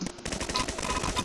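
Hand cannon gunfire in a video game, a rapid burst of close, sharp shots in quick succession filling the whole moment, with no talking.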